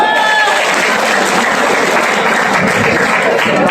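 A crowd at a lottery draw claps loudly and continuously, a dense close applause filling the whole stretch, with voices mixed in.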